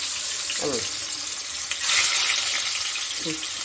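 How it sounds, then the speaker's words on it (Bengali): Pieces of boal catfish frying in very hot oil give a steady, close sizzle with a brief louder hiss partway through, while a voice speaks briefly over it. "আমি বোয়াল মাছগুলো তেলটা ভালো করে গরম করেছি, গরম করে এখন আমি মাছগুলো দিয়ে দিচ্ছি।"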